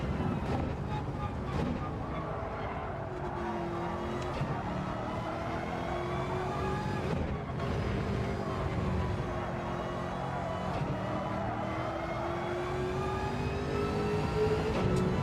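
A car engine revving hard while held in second gear during a racing time trial, a sustained, rising and falling droning roar with wind noise, and someone talking over it.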